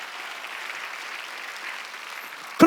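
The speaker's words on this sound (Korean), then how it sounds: "박수 세게 치라고요" A brief burst of applause from a church congregation during a Wednesday worship service, a wash of clapping hands at moderate volume ending with a sharp louder clap.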